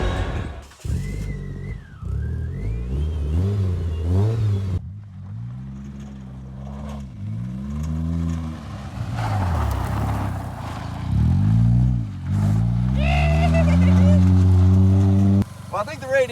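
A diesel Chevrolet Colorado rally car with a failing radiator revs repeatedly, its engine swelling and falling in deep, rough bursts close by, with people talking over parts of it.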